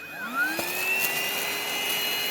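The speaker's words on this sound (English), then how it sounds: "I put the little attachment on my little stick vacuum" Small stick vacuum with a little attachment cleaning a Bambu Lab 3D printer AMS hub: a steady, close whine whose pitch rises as the motor spins up, then holds level, alone without talk.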